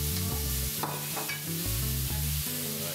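Veal being stirred back into a frying pan with seasoning and chopped herbs, steady close sizzle with scraping spoon strokes and soft knocks throughout, no talking.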